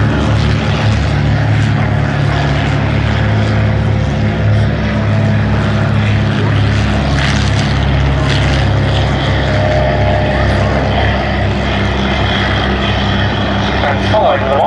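A small, unusual propeller aeroplane drones loudly and continuously at the Duxford summer air show, the steady engine hum holding throughout while an announcer talks over it.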